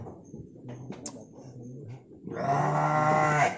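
Goats on an agricultural farm at an Islamic boarding school, with a few short calls followed by one long, loud, wavering bleat close by.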